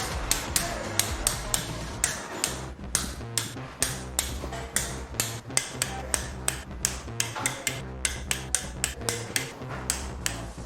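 Torque wrench clicking repeatedly while final-tightening engine bolts on a Kawasaki Z250 during a cam chain replacement, a steady series of sharp ratcheting clicks at close range throughout, with no talk.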